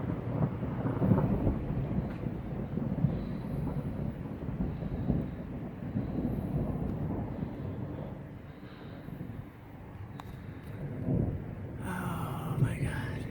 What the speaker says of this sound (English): I love lightning and thunder.